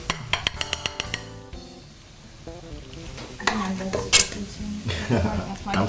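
Peas that were boiled and then fried with garlic and basil are plated in a kitchen: metal utensils clink repeatedly against pans and dishes, with scraping and a faint sizzle, while people talk nearby.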